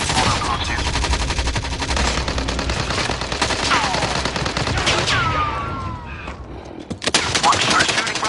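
Rapid bursts of automatic gunfire in a Warzone quads match: dense, loud, crackling volleys that run through most of the stretch, fade briefly, then return with sharp shots near the end.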